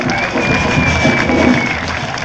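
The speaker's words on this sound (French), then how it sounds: "On l'applaudit bien fort, s'il vous plaît." Loud crowd at a hip hop event in a concert hall, sustained applause and cheering filling the space with a whistle ringing above the steady clapping.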